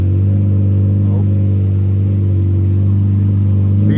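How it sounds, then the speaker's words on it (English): A Lamborghini Murcielago LP640 Roadster's engine idles with a loud, deep, steady rumble close by, with a slight rise in revs toward the end at a busy car meet. "we have a Murcielago LP640 Roadster"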